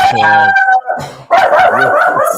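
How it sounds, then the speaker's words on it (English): A small dog barks and yips close by in several loud, high-pitched tonal bursts with a short whining howl, packed into about two seconds. "Sorry. That's my little dog."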